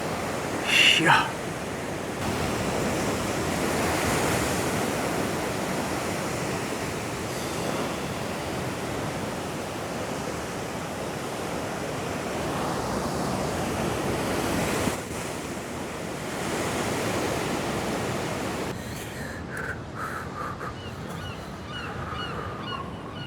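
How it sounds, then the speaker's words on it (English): Rough open Atlantic Ocean surf breaks steadily on a beach at Yzerfontein, Western Cape, South Africa, making a loud, continuous wash of crashing waves with brief voices heard over it. "Oh, the sea's rough, eh?"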